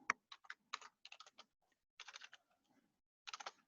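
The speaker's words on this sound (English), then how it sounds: "There's a standard rule to never do live typing in demos, and I always break that rule." Typing on a computer keyboard during a live coding demo, bursts of quick, crisp key clicks separated by short pauses, close and clear with no talk.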